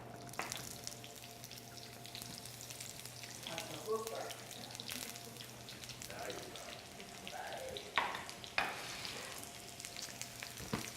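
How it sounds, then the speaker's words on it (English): Onions going into hot oil in a pan for a kale, collard and cabbage dish sizzle steadily at close range, with scattered clinks and stirring sounds. "So oil in, then onions."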